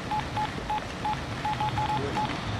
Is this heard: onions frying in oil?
no